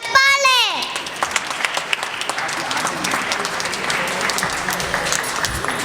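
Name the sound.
audience applause at a school annual day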